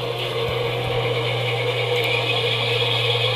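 Two model locomotives run together pulling a double-headed snow plough train, giving a steady motor whir and hum with a constant low drone and faint clicks from the track.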